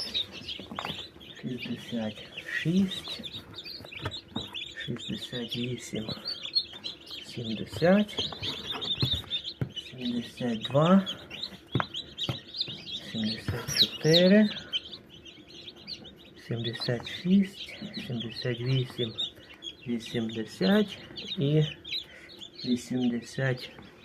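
Many newly hatched chicks cheep and peep continuously in high, busy calls, with occasional clucking and faint voices in the background.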